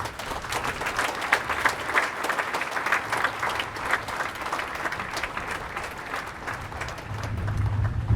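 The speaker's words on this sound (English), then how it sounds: "Let us give them a warm round of applause." Sustained applause from a large audience at a maritime academy midshipman incorporation ceremony, dense steady clapping throughout that swells slightly toward the end.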